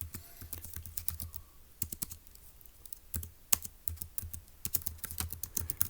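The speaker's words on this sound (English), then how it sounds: "let's go ahead and type that up" Keys clatter on a computer keyboard in quick irregular bursts with short pauses between, fairly quiet and close, no voices.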